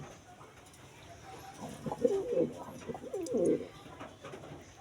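A pair of pigeons, a young bird with two white wing feathers and her mate, coo in soft, repeated rolling bursts close by, the calls swelling twice over a faint room background.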